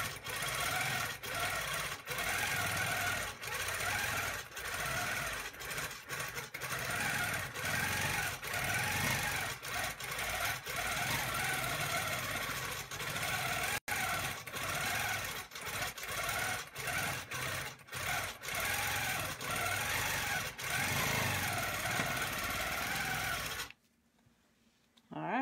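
Longarm quilting machine stitching a postcard or pincushion with continuous free-motion filling, a steady close mechanical hum with rapid needle rhythm running nonstop for most of the stretch, then cutting off near the end.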